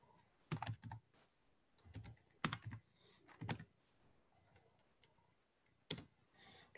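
Typing a volume name on a computer keyboard, with quick bursts of crisp key clicks separated by short pauses, close and clear in a quiet room.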